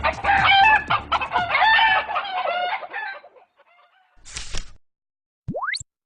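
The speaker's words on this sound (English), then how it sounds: "Kinda like being a chicken in a coop, isn't it?" Chickens in a coop cluck busily together for a few seconds, close and loud. The clucking thins out, then a single sharp squawk and a rising, crowing cry stand out near the end.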